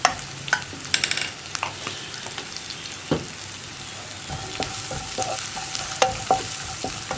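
Spices with half a teaspoon of cumin powder stirred in a frying pan, a soft sizzle broken by irregular scrapes and taps of the spoon against the pan, close and fairly quiet, without speech.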